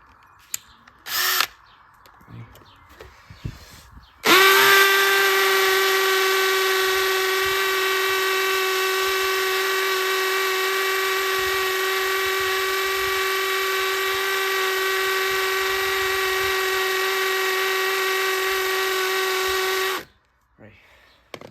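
After a brief word and a short whir, a hammer drill on hammer action runs loud and steady for about fifteen seconds with a high, constant whine, then stops.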